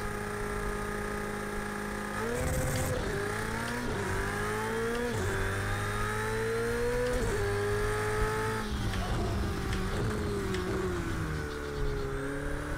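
Ferrari 488 Challenge race car in Project CARS 2, its engine droning loud and steady near the pit limiter, the pitch climbing and dropping in repeated stepped runs with no talk over it.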